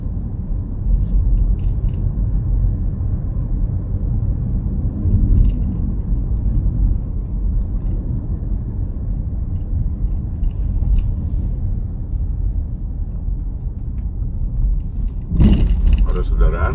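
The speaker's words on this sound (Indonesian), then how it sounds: "arus kendaraan masih cukup lancar menjelang jembatan Jati Baru Tanah Abang ini" Steady low rumble of traffic on a road toward the Jati Baru Tanah Abang bridge in Central Jakarta, heard from inside a moving car, continuous and even with a brief louder clatter near the end.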